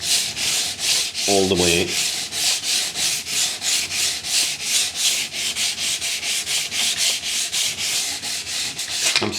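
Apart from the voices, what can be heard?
sanding block rubbing laminate edge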